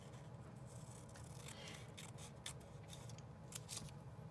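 Scissors snipping through fabric offcuts, a few soft, quiet cuts close by against a faint background hum.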